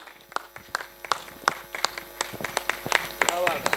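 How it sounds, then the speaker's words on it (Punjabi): Scattered hand claps ring out from a press conference audience, several people clapping unevenly and building slightly toward the end, with no steady swell of full applause. "ਇੱਕ ਵਾਰੀ ਜ਼ੋਰਦਾਰ ਤਾੜੀਆਂ ਪਲੀਜ਼"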